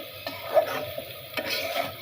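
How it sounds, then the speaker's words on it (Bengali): Pointed gourd and potatoes with garlic, chili powder, salt and turmeric being stirred in a pan: soft, close scrapes and light taps of a spatula over a faint sizzle, quiet and irregular. "আর এটা ভালো করে নেড়ে নেব"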